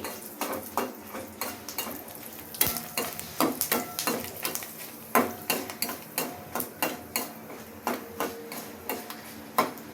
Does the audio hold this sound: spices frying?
yes